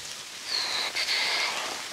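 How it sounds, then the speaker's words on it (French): Steady rain pattering over a campsite in a continuous hiss, with a slightly louder spell in the middle, no voices. "Il continue de pleuvoir"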